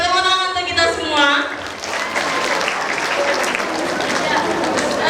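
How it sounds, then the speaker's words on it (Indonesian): Audience at a campus event in Surabaya breaks into applause as a speaker's voice trails off, then sustained, dense clapping from many people fills the rest. "tepuk tangan untuk kita semua."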